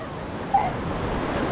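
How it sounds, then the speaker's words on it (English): Steady wash of sea waves breaking on a British beach on the Gower coast, a constant broadband surf roar with no distinct individual crash, heard alone without talk. "I'm waiting for the next wave that's gonna have me."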